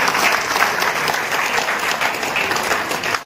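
Crowd at a political rally for candidate Meena Chauhan breaking into loud, sustained applause, a dense wash of clapping that cuts off abruptly at the end.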